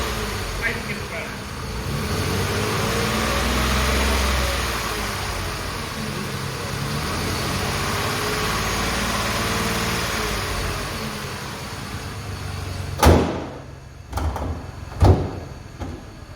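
A Ford SHO car engine runs steadily at idle for most of the stretch, a continuous low rumble, followed near the end by a few sharp knocks or door-like thumps.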